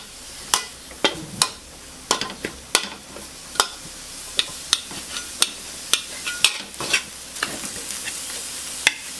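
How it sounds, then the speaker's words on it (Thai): Minced pork with chopped garlic stir-fried in olive oil, a close, constant sizzle punctuated by sharp, regular spatula strikes and scrapes against the pan. "ผัดรวนหมูสับนะคะพอสุกค่ะ"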